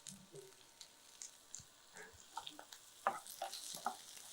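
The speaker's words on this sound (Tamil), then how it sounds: "இப்போ இது வதங்கணும்." Thick-cut raw plantain pieces sauté in a pan for a masala, giving a faint, soft sizzle with light scattered crackles and occasional stirring clicks close by, without talk.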